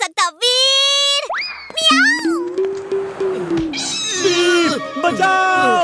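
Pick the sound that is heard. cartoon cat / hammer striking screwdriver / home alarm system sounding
cartoon cat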